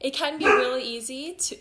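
A dog barks and yips in short bursts close by, the sound partly overlapping a person talking.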